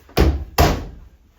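Two solid thuds as a wardrobe door closes inside a 2024 Jayco Eagle 370FBTS fifth-wheel camper, close and fairly loud, about half a second apart, each fading quickly.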